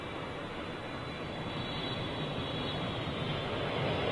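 A Boeing 787 Dreamliner jet arriving on Heathrow runway 27R, a broad steady engine roar that holds loud and constant throughout with no voices.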